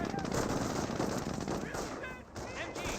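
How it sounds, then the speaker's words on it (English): Rapid MG42 machine gun bursts from a Company of Heroes battle, dense crackling fire that runs nearly unbroken, with a brief lull and a resumption, heard loud over general combat noise. "MG42 is setting on up. Trying to get a bit more suppression there."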